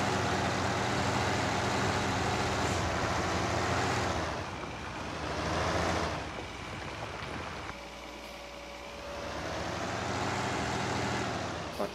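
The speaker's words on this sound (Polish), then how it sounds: "Strasznie głośny ciągnik." Loud tractor engine in Farming Simulator 19 during field ploughing, a continuous heavy drone that rises and falls in pitch and loudness as the machine works, running alone without speech.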